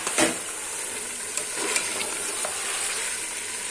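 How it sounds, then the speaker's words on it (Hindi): Meat with onion, garlic, green chilli and spices fries and is stirred in a pot, a continuous close sizzle with occasional scraping clicks from the spoon. "तो वो सब चीज़ें ऑल टुगेदर भून रही हैं"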